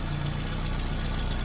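Car engine fitted with a mechanical lift pump runs at a steady idle, a continuous close-up mechanical hum with a low rhythmic throb and no pauses.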